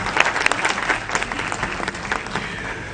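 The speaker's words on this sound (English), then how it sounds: "Let's give a round of applause." Audience applause at a Kenyan judiciary ceremony following the presentation of the green-and-gold Judiciary Flag, a steady dense clapping from a crowd sustained for about three seconds with no talk.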